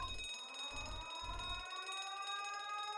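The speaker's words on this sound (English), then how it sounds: "Sound the alarms!" A quiet, steady electronic alarm tone rings in the Ace Attorney video game, with a low pulsing throb beneath it in the opening second and a half, heard alone without talk.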